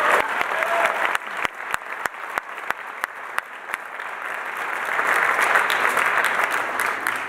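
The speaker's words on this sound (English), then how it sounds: "so you can clap for them too" An audience claps at a jazz concert, steady applause with loud, sharp individual claps near the start that fade into a broad, full wash of clapping.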